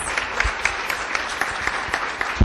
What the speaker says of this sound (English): if we can give a round of applause to our wonderful research projects